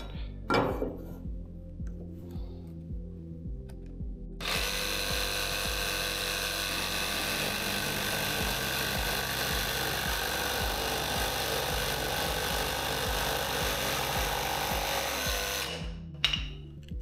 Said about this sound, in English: Okay, that was a much cleaner cut.